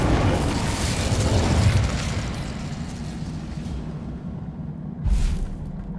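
Incendio fire spell cast in Hogwarts Legacy, a loud whooshing, roaring burst of flame that fades out over several seconds, followed by a short second flare near the end.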